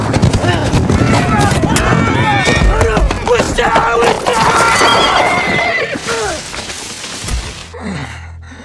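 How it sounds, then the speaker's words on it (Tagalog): A horse whinnies loudly and repeatedly over a dense clatter of galloping hooves, a close and busy sound effect for a snowy forest journey that cuts off abruptly near the end. "Si Hugh, sa kabilang banda, ay nagpatuloy din sa paglalakbay sa kabayo ni Hick sa pamamagitan ng nyebe."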